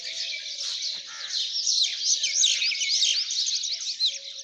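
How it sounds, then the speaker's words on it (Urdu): Bright, rapid chirping and tweeting of a small blue-winged sparrow in an animated story, a continuous, lively trill of short notes at moderate loudness with no talking. "اس کی آنکھ نیلے پروں والی چڑیا کی مسلسل چہچہاہٹ سے کھلی"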